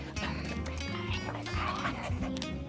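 A search dog in training barks and yips repeatedly at close range, sharp excited calls over a busy background.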